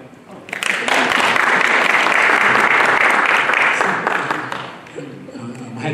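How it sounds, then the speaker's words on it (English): Audience at a county supervisor candidate forum breaks into sustained applause, rising quickly to a full, steady roar of clapping and then tapering off near the end, with some voices mixed in. "You guys can clap."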